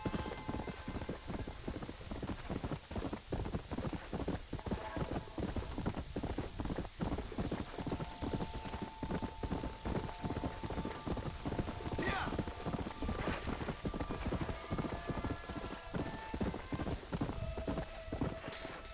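Horse hooves clip-clop at a steady trotting rhythm throughout in the Western video game Red Dead Redemption, with occasional whinnies and a voice talking over the continuous hoofbeats.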